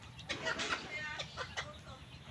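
Desi mother hen clucking softly in short bursts while feeding and teaching her chicks to eat outdoors, the clucks mixed with faint chick peeps and background noise.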